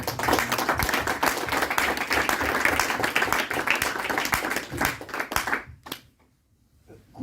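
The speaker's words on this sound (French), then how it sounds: "On peut l'applaudir." An audience at a sport and health talk applauds, dense sustained clapping for several seconds that thins out and stops near the end, leaving a quiet gap before a faint sound returns.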